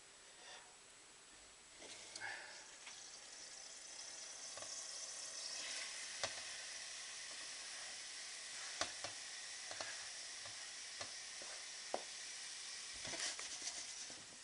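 Onions and garlic sizzle steadily in a pan, a constant bright hiss broken by a few sharp pops and the occasional knock of a spoon, close and with no talking.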